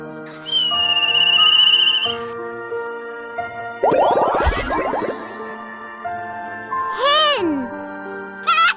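Kite calling, a series of clear whistled cries with rising and falling pitch, heard alone and fairly loud, mixed with short springy effects.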